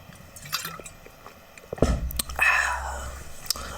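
A quick swig from a water bottle, with a soft slosh and gulping liquid noise midway through, close to the mic, amid faint breathy murmuring.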